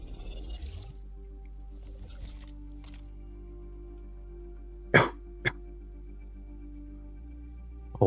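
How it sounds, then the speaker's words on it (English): Two short, sharp coughs break an otherwise quiet room, the first louder and followed quickly by a second, with another burst cut off at the very end. "Apologize for the cough, hopefully that didn't blow out the mic."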